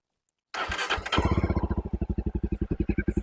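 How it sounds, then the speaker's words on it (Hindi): A Jawa 42 Bobber motorcycle engine cranks and fires up, then settles into a loud, deep, rapid pulsing idle through its twin exhaust, close by. "मैं आपको एक बार इसका एग्जॉस्ट नोट सुनाता हूँ।"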